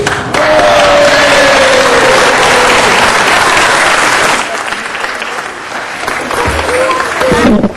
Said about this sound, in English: Another round of applause to the students from Dahlia Heights Elementary.